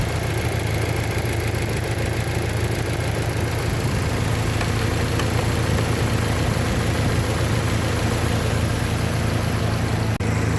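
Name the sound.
car engine surging at idle, possible sticking purge valve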